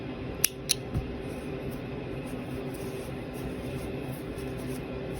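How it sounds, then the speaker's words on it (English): Scissors snip through yarn while a crocheted half-finger glove is being finished: three quick, close clicks in the first second, then only a steady low background hum. "then you cut your yarn"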